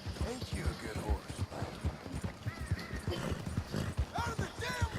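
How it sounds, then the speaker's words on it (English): Horse hooves clip-clop at a steady trotting rhythm in Red Dead Redemption 2, close and continuous, with a snort and several whinny-like calls and other game sounds layered in. "Ain't you a good horse?"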